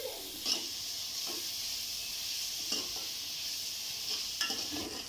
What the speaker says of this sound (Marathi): छान व्यवस्थित आपल्याला हा कांदा परतून घ्यायचा आहे